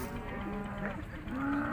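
Fat cattle at the Urzhar livestock market give a short, low moo lasting under two seconds against a steady market background, with no talk over it.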